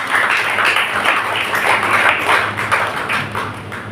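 A church congregation claps loudly together, a sustained wash of hands with a faint rhythmic pulse that eases slightly toward the end.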